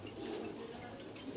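A Romanian pouter pigeon gives a low, soft, rolling coo that lasts throughout the short moment, fairly close but quiet.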